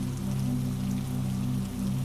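Rain falls on a monastery roof in the mountains, making a soft, continuous patter with a low steady hum underneath and no voices.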